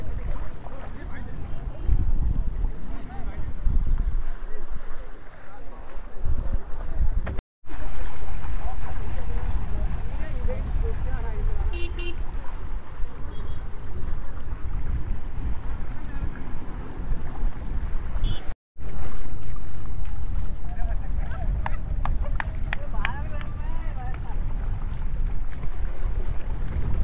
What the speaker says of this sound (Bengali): পানি ঢেউ দেখুন আপনারা।